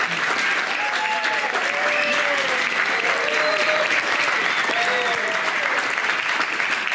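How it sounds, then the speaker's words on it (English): An audience claps steadily at a hello-and-goodbye event for two conservation leaders, continuous and even, with faint voices and a few whistles or cheers rising through the applause. "So we gave them a brief round of applause, but I'd like another"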